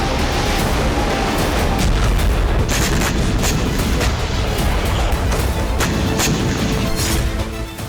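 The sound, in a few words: artillery strikes from HIMARS rocket attacks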